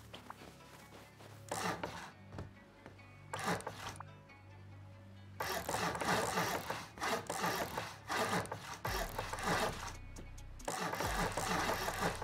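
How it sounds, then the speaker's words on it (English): A crafted chainsaw in the Rust video game cutting wood, its rough buzzing bursts starting and stopping repeatedly with brief quiet gaps between cuts, fairly close, with no speech. "So I crafted a chainsaw, put on my camo whiteout and headed out to farm some wood."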